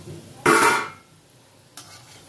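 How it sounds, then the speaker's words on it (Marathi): Paneer kofta deep frying in hot oil, a brief loud burst of sizzling bubbling as the kofta goes in, fading down, followed by a short second splash near the end. "अशा प्रकारे आपल्याला असे कोफ्ते छान डीप फ्राय करून घ्यायचे."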